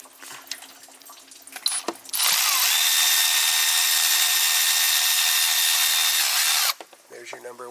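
A power tool whirs in one continuous burst of about four and a half seconds as it removes the bolts from a Jeep thermostat housing, with quieter workshop handling noises before and after.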